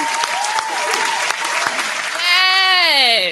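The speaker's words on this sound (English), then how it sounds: "Clap for my girl." Brief clapping from a small podcast audience rattles for about two seconds, then gives way to loud voices cheering and whooping.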